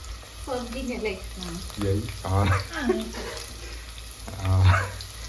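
Okra frying in a pan sizzles steadily after water is poured in, a hissing spatter running beneath a person talking throughout.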